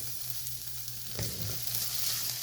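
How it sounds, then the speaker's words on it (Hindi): Potato masala for dosa roasts in a pan with a soft, steady sizzle and a brief stir or scrape midway, fairly quiet and with no voices. "ये बस थोड़े से भून के मैं दूसरी तरफ कर लेती हूँ"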